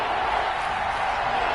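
Stadium crowd noise from a football video game, a steady roaring wash of cheering rising ahead of a big third down, continuous and fairly loud throughout.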